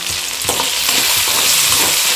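Chopped green chilies, peeled ginger and salt sautéed for a homemade prawn pickle, a loud, dense sizzle with scraping stirs of a spoon against the pan, close and continuous with no talking.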